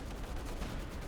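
Stuka zu Fuss rocket artillery firing in Company of Heroes 2, heard as a brief, fairly quiet wash of dense rumbling blasts that stays steady throughout with no clear gaps.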